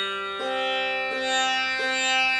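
Tanpura string pressed downward rather than plucked, giving three evenly spaced, rich droning notes that ring on with dense overtones, close and alone with no talking.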